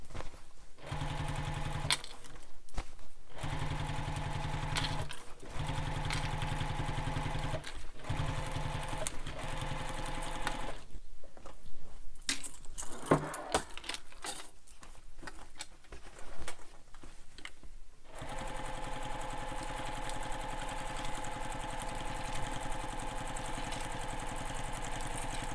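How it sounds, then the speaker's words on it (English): A sewing machine stitches up the side seam of a fabric backpack in several runs of fast, even mechanical chatter. Short pauses separate the runs, and one long continuous stretch comes at the end. "we're going to sew all the way up the bag using the seam allowance given in the pattern"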